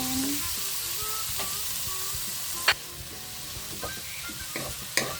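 Ripe tomatoes fry in a pan for ginisang okra, giving a steady soft sizzle with occasional stirring scrapes and clinks, close and fairly quiet, with no talking.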